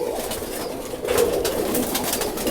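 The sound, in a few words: Blue Star family roller pigeon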